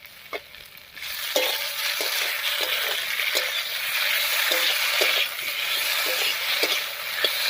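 Ground spice pastes of chilli and cumin fry in a pan with potatoes for a bata river fish curry with pointed gourd. A loud, steady sizzle carries a rhythm of spatula scrapes and stirs, with no voices.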